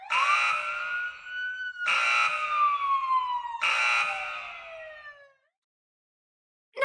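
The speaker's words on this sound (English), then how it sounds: "Not good! The alarm went off!" In the video game Zenless Zone Zero an alarm wails loudly, three long descending siren sweeps in a row, then silence.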